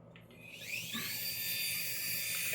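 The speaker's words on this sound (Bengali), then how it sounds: "এটা খালি বন বন করে ঘুরে মৌমাছির মতন" A toy remote-control helicopter spinning up with a rising, steady high-pitched whine and buzz, close and continuous, the motor pitch climbing early then holding.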